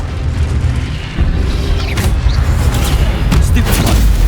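An Expelliarmus spell fires in Hogwarts Legacy, a loud booming blast followed by crackling magical impacts and rumbling effects over dense game noise.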